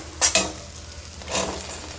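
Tomatoes and chopped vegetables sautéing in a home kitchen pan, a couple of sharp spoon-against-pan stirring clacks early on, then a soft sizzling swell, close and moderately loud, with no talking.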